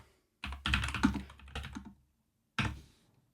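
Keys clatter on a QWERTY computer keyboard in quick, close bursts of typing. A run of about a second and a half stops, and after a short pause one brief flurry of keystrokes follows.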